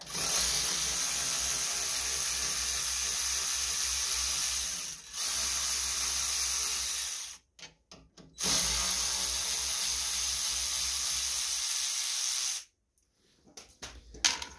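Power tool driving a 5/16 socket to remove bolts from a Briggs-powered Agri Fab leaf vacuum, loud close whirring bursts that stop and restart, with short pauses between runs.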